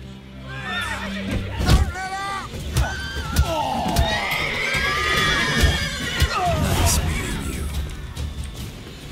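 A horse in the video game The Witcher 3: Wild Hunt lets out a loud whinny and snorts over clip-clopping hooves, with shouting voices and game talk around it.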